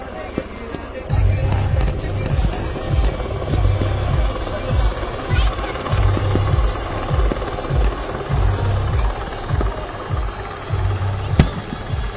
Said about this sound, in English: the cheetah helicopter flown unarmed is commanded by flawless pilots